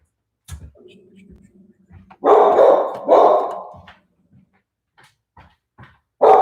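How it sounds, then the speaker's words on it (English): A dog barks at three wild turkeys walking through a yard, with a few loud, close barks in bursts, plus softer whimpers and low sounds between them. "which is what you can hear the dog barking at"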